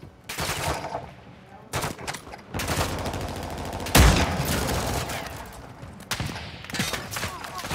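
Gunfire in the DMZ shooter game, bursts of automatic shots and single cracks separated by short gaps, with a heavy close blast midway and quieter firing afterward, alongside occasional voices.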